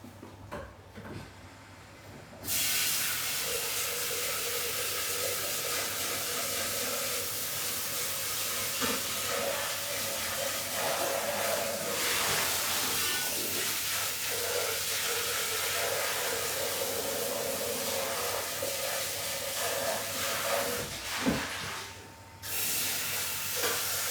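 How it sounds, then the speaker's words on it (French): A Thermomix bowl is rinsed under running water, a steady loud hissing splash that lasts about twenty seconds, then cuts off near the end. "Donc là, je vais juste rincer mon bol."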